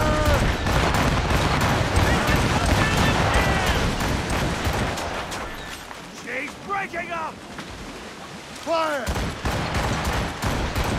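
In Assassin's Creed Rogue, ship cannons fire in a ragged, booming volley and roll on through rushing sea wind, while voices shout over the gunfire.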